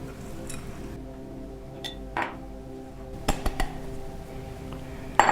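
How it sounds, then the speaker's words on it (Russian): A whisk stirs runny dough for a kulich in a bowl, with sparse clinks and taps against the bowl, a short cluster of knocks, then a final louder clink, under a faint background hum. "Пока тесто жидкое, мешаю венчиком."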